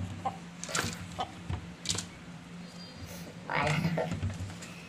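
Hens cluck in short, scattered bursts close by inside a house, with a busier stretch of clucking near the end over steady low background noise.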